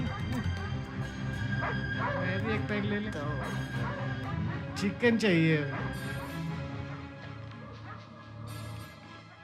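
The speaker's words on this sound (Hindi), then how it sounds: "सर वहाँ कुत्ता क्यों भौंक रहा है?" A dog barks and yips repeatedly nearby, with whimpering mixed in, heard under and between people talking in Hindi at night during a tense scene.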